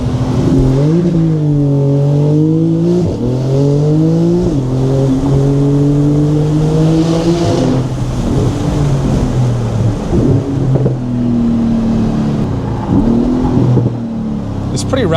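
A 2018 Porsche 911 GT2 RS launches hard from inside the cabin, its engine revving loudly and climbing repeatedly in pitch through the gears, with wind noise and some talk in the car.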